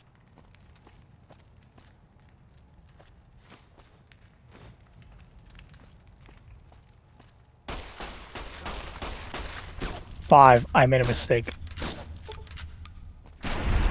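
Gunfire in the game Fallout: New Vegas, quiet footsteps and ambience giving way to a sudden burst of sharp shots, a loud sweeping flame-like blast and further scattered reports, with someone speaking briefly.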